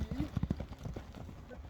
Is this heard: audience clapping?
no